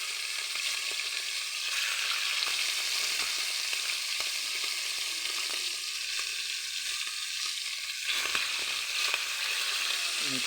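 Pork liver frying in hot oil, a constant hissing sizzle at even level with faint pops and occasional stirring, no speech.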